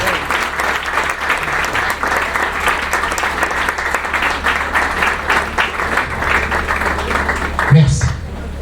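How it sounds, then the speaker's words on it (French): An audience at a church graduation ceremony claps in sustained, even applause for several seconds, with a brief spoken word near the end. "de les applaudir"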